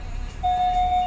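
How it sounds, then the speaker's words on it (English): A car's reversing sensor beeps in one steady, unbroken high tone that starts partway through and holds to the end, over the low rumble of the moving car's interior. "sorry for the beeping, not got the car fixed with the reversing yet"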